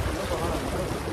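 A big river flows at Dhorpatan, producing a steady, loud, rushing roar of water with no break.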